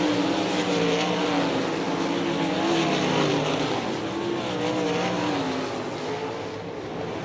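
World of Outlaws sprint cars roar around a dirt oval at Hartford, Ohio, engines wailing loud and steady through a heat race finish, with pitch rising and falling as cars pass.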